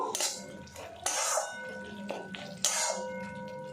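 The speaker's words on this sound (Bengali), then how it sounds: "ঢাকনাটা খুলে নেব।" A metal lid comes off a cooking pot of chicken curry masala with soybean, giving several close, bright clanks and scrapes, separate metallic hits with short ringing tails.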